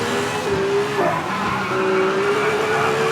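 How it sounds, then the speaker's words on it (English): BMW rally car in the V-Rally 4 racing game on a hill climb, its engine droning steadily with sharp tire squeals breaking through twice, loud and continuous without voices. "With an engine that roars behind us on a hill climb."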